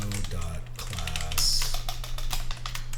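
Computer keyboard typing in quick irregular clusters of clicks during a coding session, with a low steady hum underneath and a voice talking over part of it.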